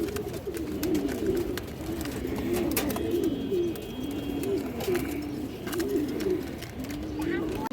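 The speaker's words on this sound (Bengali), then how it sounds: "পাকিস্তানি হাইফ্লার একটা রামপুরি নর কবুতর, 1 হাত সাইজের একটা কবুতর দর্শক।" A Pakistani high-flyer Rampuri male pigeon, about a forearm's length in size, coos in close, repeated rolling phrases, with someone talking over it.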